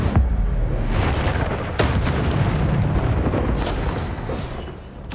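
Fire spell bursts from combat in the video game Hogwarts Legacy, a continuous loud roaring blast with booming impacts and flaring whooshes filling the whole stretch, no talk over it.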